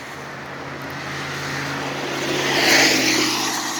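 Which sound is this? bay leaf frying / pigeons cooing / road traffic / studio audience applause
road traffic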